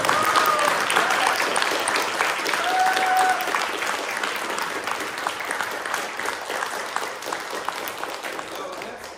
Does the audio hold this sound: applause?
yes